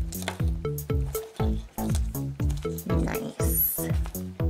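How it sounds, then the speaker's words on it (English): A scented squishy toy shaped as a small item in a little silver pan is squeezed over and over, giving close, soft, rhythmic squishing and popping sounds in quick repeated pulses with no talking. "Squish on it a little bit."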